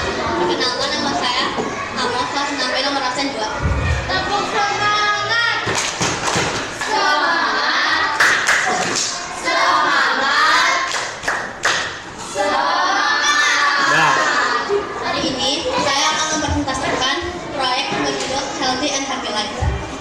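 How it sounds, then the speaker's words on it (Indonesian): A sixth-grade class doing a rhythmic spirit clap in a school classroom, bursts of patterned hand claps and thumps mixed with children's voices chanting and talking throughout. "Tepuk semangat."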